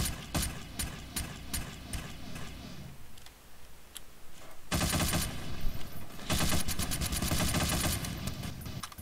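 Video game gunfire comes in rapid ticking bursts of shots, loud and close, with a quieter stretch between two dense volleys.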